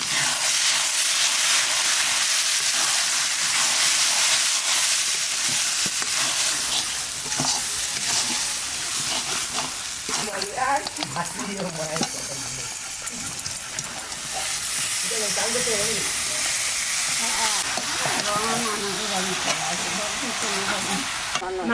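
Mutton fries in a pan with chilli powder, coriander powder, cumin powder and salt, a loud, steady sizzle and hiss punctuated by stirring and scraping, with a voice faintly audible in the middle.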